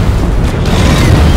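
A loud, sustained explosion in Deep Rock Galactic during a Dreadnought Hiveguard boss fight, broadband and dense throughout with a heavy low-end roar and no clear pauses.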